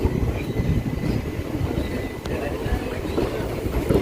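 An unreserved passenger train pulling out of Manjeshwar station on the Kanhangad–Mangaluru line, rolling from inside the coach with a steady, loud, continuous rumble and rattle and no voices.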